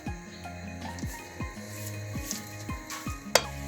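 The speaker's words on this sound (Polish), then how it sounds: "na rozgrzany olej nakładamy porcję ciasta łyżką, lekko spłaszczając" Spoonfuls of pumpkin-carrot pancake batter sizzle steadily in hot oil in a pan while a spoon taps and scrapes at a regular pace, ending in a sharp metallic clink.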